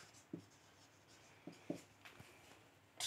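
A pen writes numbers on paper for a math exercise, producing a few soft, short scratches and taps at irregular intervals, quiet and close up.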